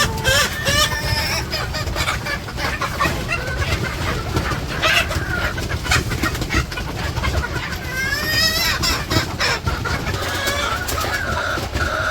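Chickens clucking and squawking at feeding time in a village yard, a loud, dense flock chatter with overlapping calls, plus a person talking at points.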